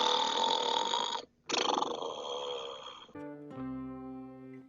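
Snoring acted out for a dog in a children's story: a loud, drawn-out rasping snore, a brief pause, another long snore, then a lower whistling, tonal exhale to finish.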